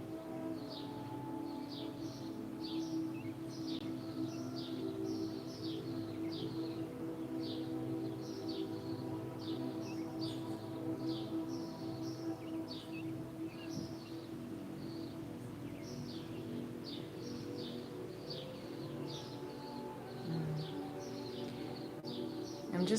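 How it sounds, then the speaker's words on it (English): Birds singing outdoors, faint repeated chirps and short whistled calls drifting in from a distance over a low steady indoor hum. "I'm just listening to the birds outside,"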